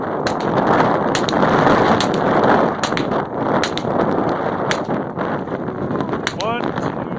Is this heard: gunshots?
yes